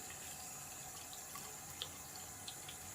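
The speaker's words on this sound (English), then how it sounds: "turn the water on" Water runs steadily from a tap in a continuous hiss while makeup brushes and sponges are washed, with a few small splashes and clinks near the end.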